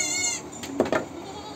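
A goat on a rooftop at feeding time gives a short bleat that fades out, followed by a couple of faint, brief knocks or bumps nearby in an otherwise quiet setting.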